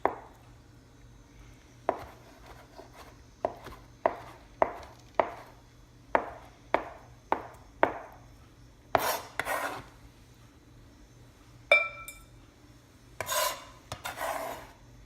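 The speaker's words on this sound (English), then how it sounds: "now I'm going to chop them and get them in the bowl with the onion and the pickle" A knife chopping peeled hard-boiled eggs on a board, a series of about a dozen sharp, close taps in an uneven rhythm, followed by a few rougher scraping sweeps, with no talking.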